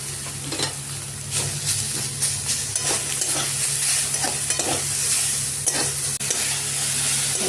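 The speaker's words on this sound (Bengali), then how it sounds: "সবজিগুলো ভেজে নিলাম।" Potatoes, long beans and tomato fry in a hot pan with green chilli, sizzling steadily while a utensil scrapes and stirs in repeated bursts, close and clear with no talking.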